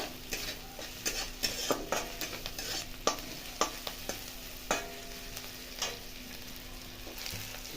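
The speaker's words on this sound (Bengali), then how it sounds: "এবার এটাকে ভালো করে একটু বাদামি কালার আসা মতন ভেজে নেব।" Onions frying in a pan until brown for aloo bhorta, a soft continuous sizzle under repeated spatula scrapes and taps against the pan, fairly quiet and close, with no voices.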